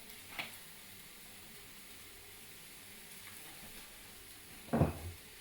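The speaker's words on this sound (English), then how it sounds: "Just drying them out in the pan with the garlic, getting all those flavours mixed in." Mushrooms and garlic fry in oil in a pan, giving a soft steady sizzle throughout, with a brief stir early on and a louder close clatter of a utensil against the pan near the end.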